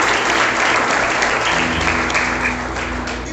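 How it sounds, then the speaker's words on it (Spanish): A church congregation claps loudly and steadily from close by, a dense wash of applause with a faint musical tone beneath it. "Dale un aplauso al Señor."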